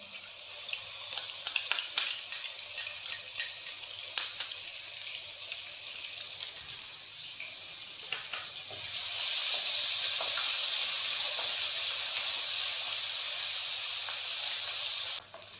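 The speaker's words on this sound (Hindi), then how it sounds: "अब इसी ऑयल में जो है वो 2 से 3 चम्मच जो है अदरक लहसुन का पेस्ट वो मैं शामिल कर देती हूँ।" Ginger garlic paste sizzles and fries steadily in hot oil for a chicken biryani, a continuous crackling hiss with occasional stirring clicks, growing slightly louder midway and stopping abruptly at the end.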